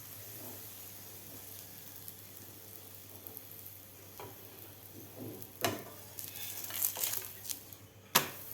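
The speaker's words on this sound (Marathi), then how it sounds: "दोन्ही बाजूकडून व्यवस्थित आपल्याला हा पराठा शेकून घ्यायचा आहे" Broccoli paratha roasting in oil on a hot pan over medium heat: a steady, close sizzle and fry crackle running throughout, with a few sharper pops and scraping touches near the end and no talk.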